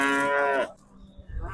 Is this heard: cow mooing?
yes